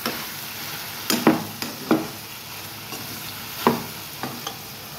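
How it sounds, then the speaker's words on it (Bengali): Eggplant frying in oil in a pan, with a steady sizzle under several distinct scraping strokes of a spoon stirring it, close by and alone. "এখন একটু নাড়িয়ে নেব।"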